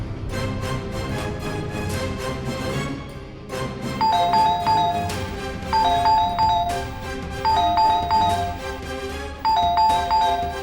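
A doorbell chimes repeatedly in a house, giving several two-tone ding-dong rings in succession over a steady background of music.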